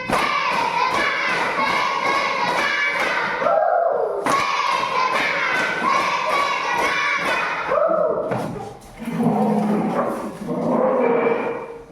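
Students and a teacher in an Islamic religious education class perform a rhythmic clapping cheer, with loud, close, patterned claps and thumps mixed with group voices shouting and chanting along in bursts.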